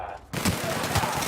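Rapid gunfire in The Outer Worlds, a dense burst of shots starting abruptly after a short quiet gap and continuing loud and steady to the end, with faint voices mixed in.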